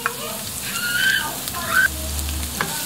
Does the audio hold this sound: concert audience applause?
no